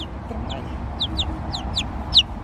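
Three-week-old chick pair, a young hen and a young rooster, peeping in a string of short high chirps, soft and fairly near, spread unevenly over low background rumble with one louder chirp near the end.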